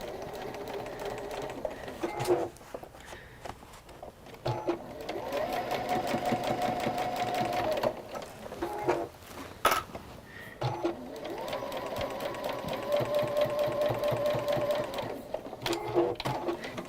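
Sewing machine stitching fabric for a neat bowl seam, running in long steady bursts with a fast mechanical whir, pausing briefly between passes, close and fairly loud with no talk.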